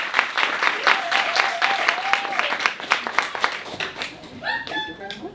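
Audience at a teen investing class applauding a guest, dense continuous clapping with a voice speaking over it, tapering into a few scattered claps and brief chatter at the end.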